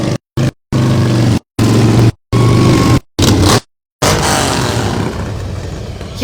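Church of God motorcycle ministry bikes roll past in a Christmas parade, a loud engine rumble broken by repeated dropouts, then a steadier passing drone that fades.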